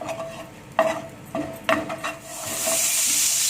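Butter and cooking oil heating in a Teflon pan, a few sharp scraping stirs and clinks, then a rising steady sizzle that grows louder and fills the end, close up with no talking.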